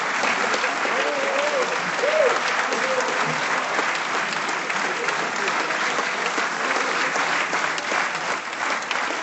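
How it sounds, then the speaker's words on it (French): Steady, loud applause from an audience standing in a hall at a world premiere screening of a documentary about water, with dense clapping sustained for about nine seconds and faint voices underneath. "il mérite toutes et tous ces applaudissements"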